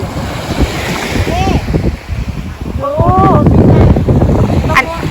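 Sea waves wash onto the beach at Cha-am, Phetchaburi, in Thailand, a loud continuous surf with wind buffeting the microphone, and a few short bird-like chirps above it.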